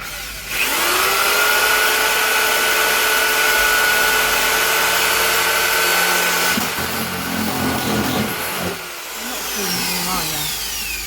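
A power drill whirs loudly with a steady motor whine, then sputters and changes pitch unevenly as it breaks, before winding down.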